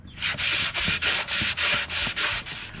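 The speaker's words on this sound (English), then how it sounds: "I'm also gonna sand the top and the back side of this board" A sanding block works back and forth over a wooden board for a hand balancing board, giving about nine rhythmic, evenly spaced rasping strokes, close and clear, with no voices.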